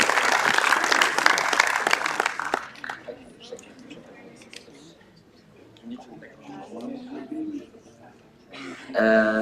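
Council meeting audience at a general assembly breaks into brief, fairly loud applause that fades after a couple of seconds, leaving quiet room noise, rustling and soft voices, with a short sharp sound near the end.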